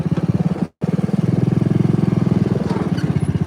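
A John Deere riding lawn mower engine with a slipping belt chugs in a steady, pulsing mid-pitched rhythm close by, cutting out briefly before resuming its throbbing idle.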